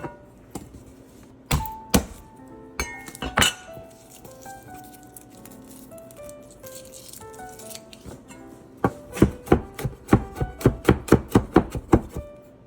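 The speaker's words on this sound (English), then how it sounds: "Chop a little cilantro, or a lot. Just chop them up, and then chop up a clove." A knife chopping cilantro and a garlic clove on a board, sharp close taps that start sparse and then speed into a fast, even run of strokes, with no talking.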